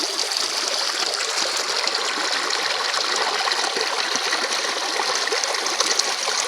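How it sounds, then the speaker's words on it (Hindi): A natural stream flows outdoors with a continuous, loud rush and trickle of water, steady and close throughout, with no voices. "पानी"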